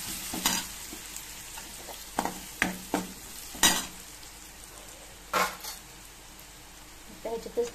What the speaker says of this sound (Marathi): छान मिक्स करायचे सगळे मसाले